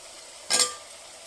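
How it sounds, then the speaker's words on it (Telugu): Cut brinjal pieces dropped into a pan for sambar: one short, bright clatter and hiss as they land, then a quiet stretch with a faint clink. "ఇప్పుడండి మనం కట్ చేసి పెట్టుకున్న వంకాయ ముక్కలు వేసుకుందాం."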